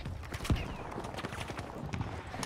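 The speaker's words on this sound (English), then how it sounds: "I hear a lot of footsteps." Footsteps in the Battlefield V video game thud and clatter quietly in a quick irregular rhythm, mixed with a few sharper knocks and distant game noise, low in level.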